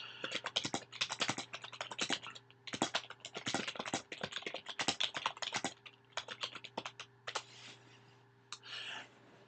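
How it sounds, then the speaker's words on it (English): Close, quiet typing on a computer keyboard, irregular quick bursts of key clicks with short pauses between words over a faint steady background hum. "So we'll just type"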